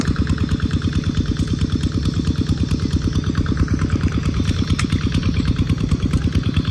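A motorcycle engine idles steadily nearby with a fast, even chugging pulse and some mechanical clatter, loud and continuous with no speech.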